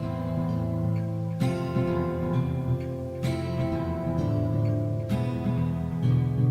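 Bonnie's music-box style song from a Five Nights at Freddy's fan game plays steadily on its own, a looping melody over sustained tones with a few brief accents marking new phrases, no voices.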